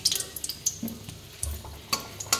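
Dried red chillies tempering in hot oil, soft sizzling broken by sharp utensil clinks and scrapes against the pan, close and intermittent.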